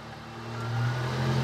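A 1992 Subaru Sambar kei truck engine idles with a steady low hum that swells and strains slightly as the headlight brights are switched on, close and moderately loud, with no talk.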